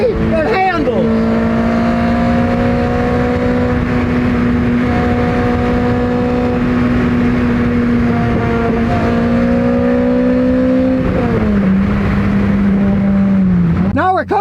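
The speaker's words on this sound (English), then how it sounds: "Now this is a stock exhaust, but it's a Sage 2, so it's louder." A stock-exhaust sports car drones steadily from inside the cabin while driving, a continuous engine hum with a slight rise and a drop in pitch near the end, under ongoing talk.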